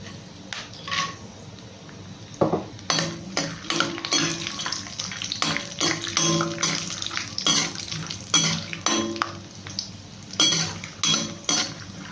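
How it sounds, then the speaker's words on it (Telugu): Cashews and chickpeas fry in a pan on a low flame as a spoon clinks and scrapes against the metal in frequent, uneven strokes over a quiet background. "సిమ్లో పెట్టి ఫ్రై చేసుకుందాము కాజు కూడా వేసుకున్నాము"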